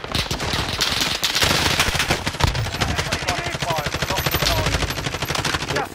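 Rapid automatic gunfire from an enemy player in a video game, a dense, sustained string of loud shots rattling almost continuously, with players talking over it.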